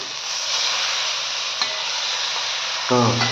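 Pomfret fish wrapped in banana leaf sizzles steadily in a heavy-bottomed pan, a close, even frying hiss, then a brief rustle and clatter as it is flipped near the end.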